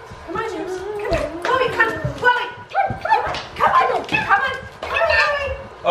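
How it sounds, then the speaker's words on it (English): Several dogs shut inside a bedroom bark, yip and whimper close by in an excited, uneven string of calls that continues throughout. "The dogs can't come out."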